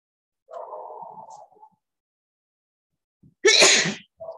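One loud, sharp sneeze bursts out close by after a quieter hum-like vocal sound and a pause of silence, with no talking around it.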